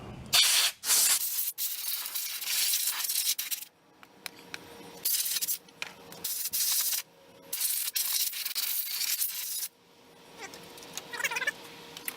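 Compressed air blasts debris out of a Honda Troy-Bilt 21-inch self-propelled mower, loud hissing bursts starting and stopping repeatedly, close up, with no talk.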